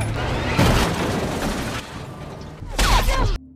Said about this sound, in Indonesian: Ternyata tembakan itu dari Jim yang masih membidik Zera dari jarak jauh.